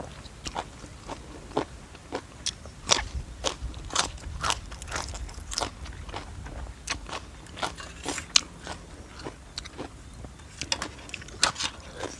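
Eating a spicy Thai papaya salad with fresh shrimp, squid and a few noodles, with close, loud crunching bites and chewing in an irregular rhythm through the whole stretch.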